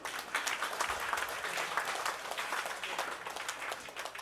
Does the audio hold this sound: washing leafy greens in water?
no